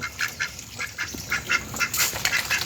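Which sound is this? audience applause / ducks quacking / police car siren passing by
ducks quacking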